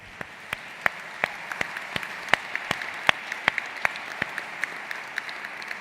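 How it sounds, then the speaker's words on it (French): Clapping from an audience at a VivaTech talk, heard as sparse, sharp claps at an even, almost metronomic pace over a soft bed of fainter hands. "et je vous demande d'applaudir son travail."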